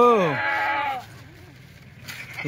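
Kathewadi goats bleating up close, one loud wavering bleat at the start followed by fainter calls, amid a livestock yard with people talking nearby.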